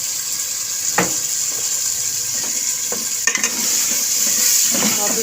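Potato curry frying in a pan is stirred with a spoon, giving a steady sizzling hiss broken by a few scraping clinks against the pan, all close and without talk.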